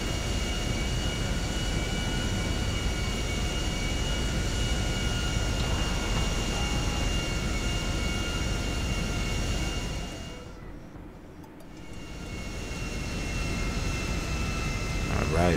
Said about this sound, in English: we will be back in the airplane taking off from a runway